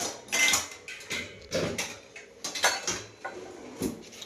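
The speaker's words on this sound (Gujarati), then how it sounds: "જો ગાઈસ અહીંયા મમ્મીએ મિક્સ કરવાનું ચાલુ કરી દીધું." A spoon stirs spiced handvo batter in a bowl, giving a series of close, irregular scraping and clinking strokes against the bowl with short pauses between them.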